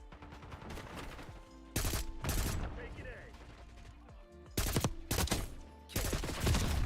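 Bursts of automatic gunfire in the video game Call of Duty hammer out loudly in several separate volleys, with quieter game noise filling the gaps between them.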